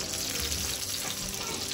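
Chicken browning in a pan gives off a constant, close sizzle of frying with no breaks over the short stretch.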